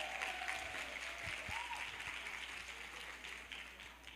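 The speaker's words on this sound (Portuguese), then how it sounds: "Eu quero ouvir uma salva de palmas aí das mulheres." Women in a church congregation applaud together, a steady, fairly distant round of clapping that holds for several seconds and fades slightly toward the end.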